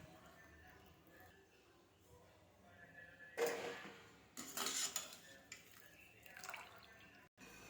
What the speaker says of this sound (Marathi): पाणी पूर्ण टाकून देऊन कढई एकदम स्वच्छ धुवून घेतली मी